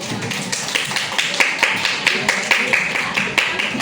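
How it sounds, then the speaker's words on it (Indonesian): A classroom of students claps together, a burst of many hands with rhythmic, fairly close clapping that keeps a loose beat over a few seconds, with faint voices mixed in. "Tepuk tangan"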